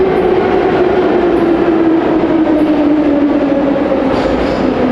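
A metro train rumbles loudly into a station, its pitch slowly falling as it slows, with a steady mechanical roar throughout.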